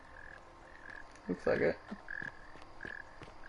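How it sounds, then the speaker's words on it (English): Frogs croak in The Forgotten City game, a chorus of repeated short rhythmic calls with a louder burst near the middle, while a voice speaks briefly. "Noisy ass frogs."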